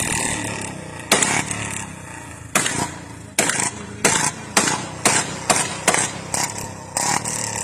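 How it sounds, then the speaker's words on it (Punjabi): Royal Enfield Bullet motorcycle being kicked and started, giving a series of loud, sharp mechanical bangs repeating at irregular intervals over a steady background rumble. "ਹੁਣ ਨਹਾਂ ਕਿਹਨੇ ਮੋਟਰਸਾਈਕਲ ਸਟਾਰਟ ਕਰਿਆ"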